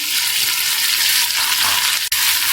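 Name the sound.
mixing spices into mutton in pot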